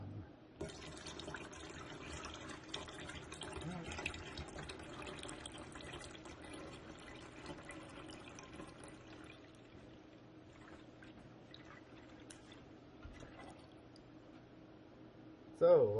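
Hot lye solution being poured into hot oils while making hot process soap, a steady liquid pour and splash that runs for most of the stretch at moderate level and fades slightly toward the end.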